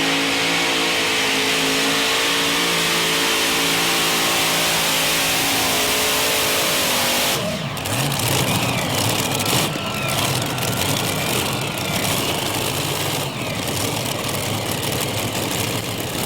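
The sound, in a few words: modified pulling tractor engine revving on the starting line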